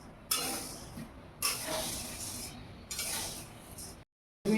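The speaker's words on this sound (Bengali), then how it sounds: "কলাইয়ের ডাল অর্থাৎ বিউলির ডাল, এটাকে ভেজে রেখে দিচ্ছি পরিমাণে অনেকটা" Urad dal dry-roasting in a pan over low heat, the dry lentils stirred in scratchy, rattling bursts that rise and fall, quiet overall, with a brief silence near the end.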